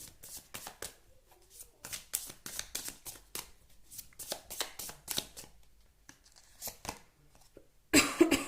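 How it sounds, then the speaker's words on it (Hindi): Tarot cards being shuffled and drawn from the deck, a run of quick papery riffles and soft slaps close by, with a louder rustle near the end. "और कार्ड्स निकालूंगी अभी"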